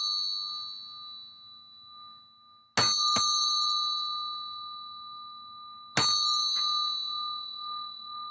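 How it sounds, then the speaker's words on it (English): A bell rung to open a meditation gives two loud, clear strikes a few seconds apart, each leaving a long ringing tone that slowly decays in an otherwise quiet room. "we're just going to ring the bell 3 times just to open up our heart"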